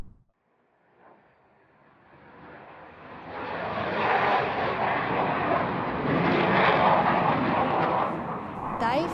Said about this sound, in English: when a jet goes over